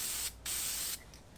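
Oil spraying onto a performance air filter's media in two close hissing bursts, the first long and the second shorter, with a faint brief spritz after.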